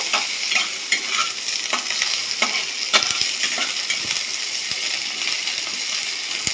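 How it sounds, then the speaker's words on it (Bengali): Onions frying in oil in a wok make a loud, continuous close sizzle, broken by the scrape and clatter of stirring throughout. "কড়াইয়ের তেলটাই আমি দিয়ে দিলাম পেঁয়াজ। পেঁয়াজটা ভালো করে আমি ভেজে নেব।"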